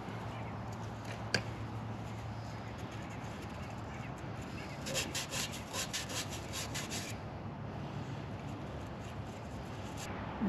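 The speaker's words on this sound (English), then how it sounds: "Where's that sandpaper?" Hand sanding with sandpaper, heard as a quiet, rough rubbing and scraping in uneven back-and-forth strokes, with a brief burst of faster, brighter rasping partway through and a sharp tap near the start.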